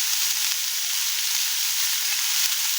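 Onion and chilli sauté in hot oil in a pan, giving a steady bright sizzling hiss throughout, close and fairly loud, with faint low knocks from stirring and no voices.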